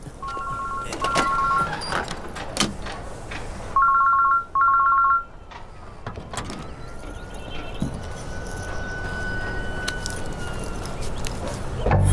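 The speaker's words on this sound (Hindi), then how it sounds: "घंटी जा रही है भाई।" A mobile phone ringtone plays in short repeating electronic bursts, rising above steady outdoor background noise, then stops.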